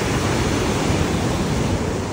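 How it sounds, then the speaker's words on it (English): Ocean waves wash continuously against a Mexican shore, a broad, steady roar of surf heard close and even, with no distinct breaks or voices over it. "The water is calming down compared to how it was earlier, but it's still very, a lot of waves."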